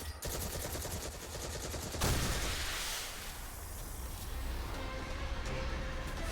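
Rapid gunfire from a shooter video game, with dense bursts of automatic fire in the first two seconds followed by continuous loud shooting and blasts that stay steady through the rest.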